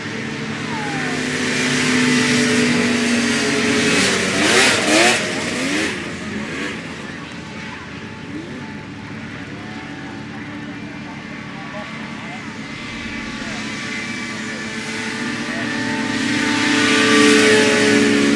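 Racing craft engines roar past on the final lap at Hackets Lake, a broad, continuous drone that swells and falls as they pass, with a race commentator talking over it throughout.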